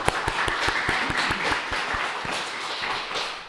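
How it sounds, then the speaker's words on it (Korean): A church congregation claps to celebrate the completion of their new building, with distinct, sharp hand claps forming a lively, fairly close round of applause that tapers slightly toward the end. "박수!"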